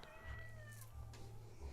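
An elderly cat meows close by, one drawn-out, wavering cry that rises and then falls, with a soft rumble underneath and no talking over it.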